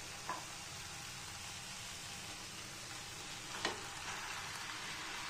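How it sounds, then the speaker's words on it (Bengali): Taro leaves (kochu shak) sizzle and fry in a pan with a steady, even crackle, while two brief stirring scrapes break through near the start and again a few seconds later. "এটাকে একটু ভালো করে নাড়াচাড়া করে এবার আমি কচুর শাকটা দিয়ে দেবো।"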